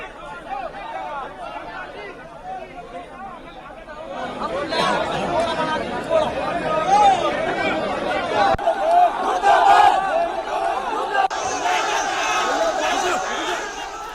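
A crowd of rival Congress supporters gathers outside a party war room during a ticket-distribution row, a dense, loud babble of many voices and shouts that swells after the first few seconds and stays continuous.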